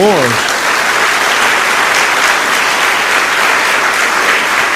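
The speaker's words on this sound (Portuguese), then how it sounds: "Dê uma salva de palmas ao Senhor." A church congregation breaks into loud, sustained applause, dense clapping that stays steady throughout, with a voice briefly heard at the very start.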